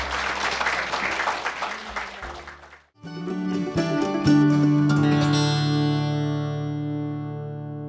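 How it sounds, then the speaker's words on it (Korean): Audience applause at a health concert on preventable chronic disease and AIDS, a dense crowd clapping for about three seconds, then fading as loud electronic music with sustained tones takes over. "세 분에게 박수 한번 부탁드릴까요?"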